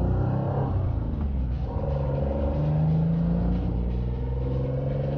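A Ligier race car's V6 engine, mounted behind the driver, rumbles steadily and close by in a deep, even drone with a slight rise in pitch partway through.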